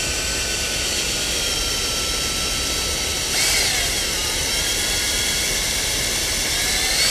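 A drill bores slowly through bark into a maple tree to make a tap hole, a steady close whine with high tonal hum that briefly intensifies midway.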